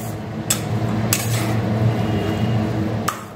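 Spinach and peas with spices are stirred in a pan, giving a low, moist cooking hiss broken by three sharp clinks of a utensil against the pan.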